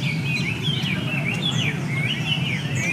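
Caged songbirds at an outdoor bird cafe in Saigon sing continuously, bright overlapping chirps and warbles above a low murmur of background noise.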